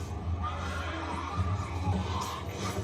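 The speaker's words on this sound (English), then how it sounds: "these damn horses always just running off" Horses neighing and whinnying from a television drama scene, several loud close calls over a busy background, with a voice faintly present underneath.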